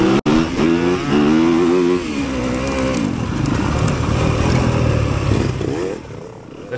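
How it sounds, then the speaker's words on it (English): Several dirt bikes roar off the line together at the start of a harescramble race in Stanton, Alabama, engines revving hard in a loud, dense, continuous blare with harmonic whine that thins slightly toward the end. "That's Dennis Porsche with the hole shot"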